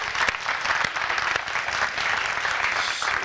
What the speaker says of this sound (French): On va applaudir pour